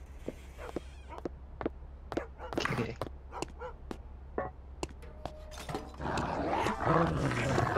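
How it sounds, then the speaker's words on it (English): A dog growls and snarls during a video game match, set among sharp clicks and bursts of game effects over a steady low hum, growing busier and louder toward the end. "Okay, dog is dangerous, right?"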